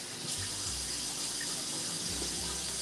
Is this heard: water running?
yes